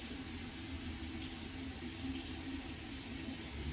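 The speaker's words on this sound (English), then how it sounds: "continue to re-wet your blade and rinse it off in between strokes" A tap runs continuously while a razor blade is rinsed between shaving strokes, a soft, even hiss of flowing water into a sink with no talking.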